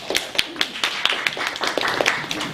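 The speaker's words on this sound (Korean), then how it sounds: "박수 치실 때는 확실하게 쳐주세요" An audience claps at a Korean regulatory reform forum on startup innovation, a light scattered patter of hand claps, fairly close and uneven, fading after a couple of seconds.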